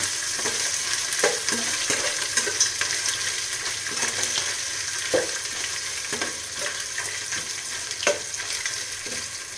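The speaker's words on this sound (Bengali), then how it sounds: "একটু ভাজা ভাজা করে নেব।" Bay leaves, dried chillies, chopped ginger and five-spice seeds frying in oil in a pan, a continuous close crackling sizzle with repeated sharp stirring scrapes and taps throughout, no talk.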